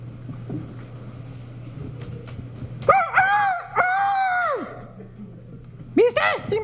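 A voice imitates a rooster crowing, drawn-out rising and falling calls, near and loud, with a shorter crow starting at the end over a low hum.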